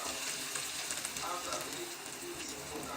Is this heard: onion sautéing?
yes